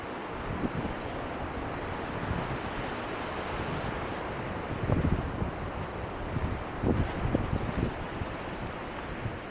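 A river in Yellowstone flows beneath a suspension bridge at Hellroaring Creek, a broad, steady rushing roar of water mixed with wind buffeting the microphone, with no voices over it.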